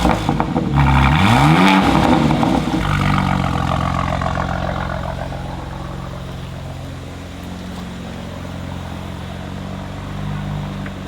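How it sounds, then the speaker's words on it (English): A BMW M3 engine and exhaust rev loudly with a rising pitch sweep on a paddle-shift downshift, then settle into a steady droning hum that fades slightly over several seconds. "when I downshift with my carbon fiber paddle shifters, it goes ba ba ba ba"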